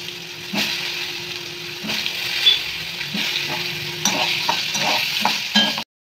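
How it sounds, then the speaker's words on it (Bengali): Pointed gourd sizzles in hot oil in a pan, a steady close crackle broken by several sharp scrapes and knocks of a spatula stirring, before stopping abruptly at the end. "পটলগুলো ভেজে নিই"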